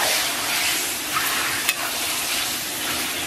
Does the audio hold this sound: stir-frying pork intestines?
yes